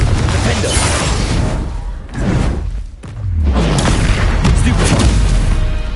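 Confringo fire spell blasting in the Hogwarts Legacy video game, a loud booming explosion amid constant combat noise, with a brief drop in sound followed by a deep thudding burst.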